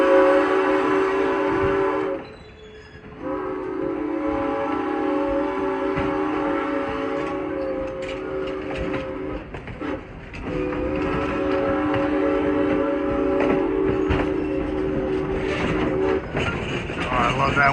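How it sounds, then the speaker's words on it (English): A steam locomotive on the Strasburg Railroad sounds its whistle in long, loud, harmonic blasts over the rumble of moving rail cars, with a short break and a dip in the middle. "Oh, I love that whistle."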